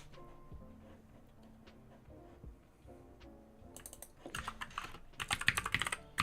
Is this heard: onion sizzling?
no